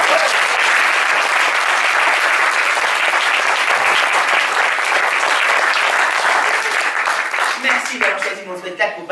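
Loud, dense applause from a theatre audience at the curtain call of a comedy show, continuous rapid clapping filling the room before tapering off as a voice begins speaking at the end.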